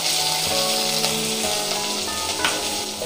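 Mustard seeds, chana and urad dal, chillies and curry leaves fry in hot oil in a kadai, a steady dense crackling sizzle close up with a few sharper pops.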